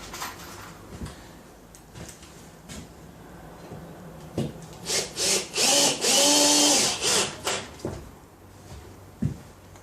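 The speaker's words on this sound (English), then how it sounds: "Put some screws in the back of this one." A power drill drives screws into the back of a wooden piece, with rising whirring bursts in the middle that peak into a sustained, loud whine before tapering off, over quiet room background.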